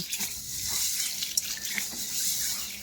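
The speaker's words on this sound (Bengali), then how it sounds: "এভাবে মেখে একটু ধুয়ে নেব। তাতে দেখুন মুগ কলাইয়ের গায়ে কত সবুজ জল বেরোচ্ছে।" Mung beans are rubbed by hand and washed in water, giving a soft, continuous swishing and sloshing close by, with no talking.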